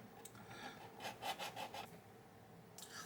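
Sanding sticks rubbing across a plastic U.S.S. Reliant model kit, several short close scraping strokes in a quick run, then a pause before another brief stroke, with no talking.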